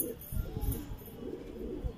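Hyderabadi pigeons coo softly and repeatedly nearby at a rooftop loft, low throaty calls over faint background noise, with some speech mixed in.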